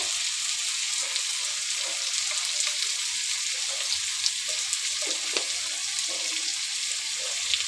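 Salt and turmeric fry in a pan during Bengali home cooking, giving a steady, close sizzle with occasional scrapes of stirring throughout.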